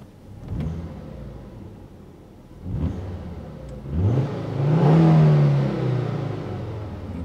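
A Volvo C30 with a newly fitted aftermarket exhaust revs from inside the cabin, a few short blips building to a longer, louder rev that drones and then falls away.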